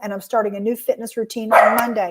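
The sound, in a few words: dog barking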